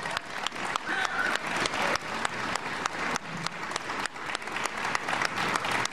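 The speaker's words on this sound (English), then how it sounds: "Please give him a big round of applause." Loud applause from a crowd at a White House event fills the space with continuous, dense clapping that pulses slightly in waves, close and without talk.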